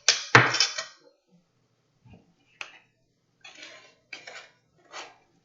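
A spoon scoops lavender sugar scrub into a glass mason jar, giving a loud initial clink and scrape, then a few sparse, quieter taps and gritty scrapes against glass separated by silence.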